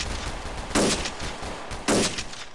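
Two loud gunshots from an L96 sniper rifle in a GTA multiplayer battle, spaced about a second apart, each a sharp crack with a short tail over steady background game noise.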